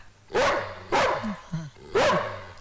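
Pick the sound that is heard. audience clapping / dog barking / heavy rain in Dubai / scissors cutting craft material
dog barking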